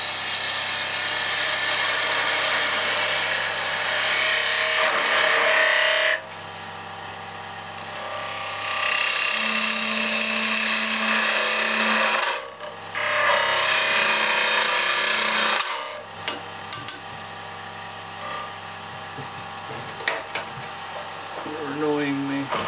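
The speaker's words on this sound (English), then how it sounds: "as you get near the end of the cut, see I'm turning the flute close so that I don't stick the leading edge of the flute of the gouge into the other piece of wood." A wood-turning lathe drives a gouge through wood on a Christmas angel and bell ornament, giving loud, steady broadband cutting hiss in long bursts with brief pauses, then a quieter, spinning hum toward the end.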